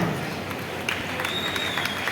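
A crowd at a railway station inauguration in Bijnor keeps up dense, continuous applause, a steady wash of many hands that never lets up, with faint voices mixed in.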